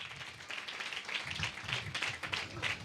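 Congregation at a Sunday church sermon clapping for the Lord, a steady run of rhythmic hand claps from many people filling the room with no talking.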